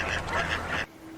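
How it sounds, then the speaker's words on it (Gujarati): A duck gives a single raspy quack, close and fairly loud, that ends abruptly into near quiet. "duck"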